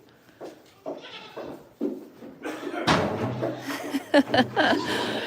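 Several goats bleat in short, wavering cries scattered through the clip, with a louder cluster of bleats near the end over steady background noise inside a new barn.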